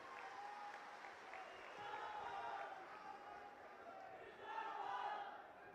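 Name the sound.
crowd applauding at a political rally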